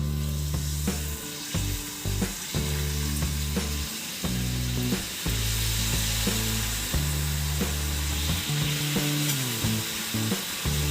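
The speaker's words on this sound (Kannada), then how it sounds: "ಇದನ್ನು ಕೆಂಪಗೆ ಕರಿಬೇಕು" Masala poori dough pieces deep-frying in hot oil, a loud steady sizzle and bubbling crackle that fills the whole stretch, with occasional stirring or utensil clinks and no talking.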